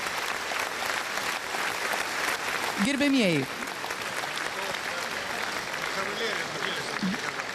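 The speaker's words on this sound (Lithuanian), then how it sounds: "Plojimai mūsų ovacijos." Audience applause after a song performance, a steady dense clapping from a large crowd that carries on throughout while a voice speaks briefly over it.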